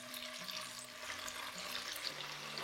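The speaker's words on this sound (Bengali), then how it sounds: "তেলটা একটু গরম হলে আমি প্রথমে ভেজে নেবো পনিরগুলো" Paneer pieces, soaked in hot water, fry in a little white oil, making a soft, continuous sizzle and crackle close by with no talking.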